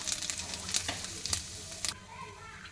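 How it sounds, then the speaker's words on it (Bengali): Cumin seeds crackle and sizzle in hot oil with a few sharp spitting pops early on, for a jackfruit curry; the frying then settles into a softer, quieter hiss for the last second. "জিরা ফোড়ন দিয়ে দিলাম"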